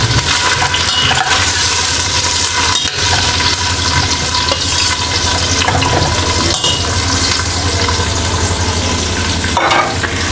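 Onions frying to light brown in a pan of oil, a loud close continuous sizzle with the scraping and splashing of steady stirring throughout, no voices.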